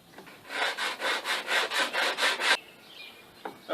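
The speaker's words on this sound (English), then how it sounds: "Okay, we got it all sanded up good enough." Sandpaper rubs a wooden Thor hammer in about nine quick, even back-and-forth strokes, close and distinct, then stops, followed by a few faint knocks.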